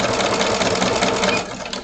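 A sewing machine stitches a quarter-inch seam allowance with the presser foot down, running as a steady, close, loud mechanical whir that eases off slightly toward the end.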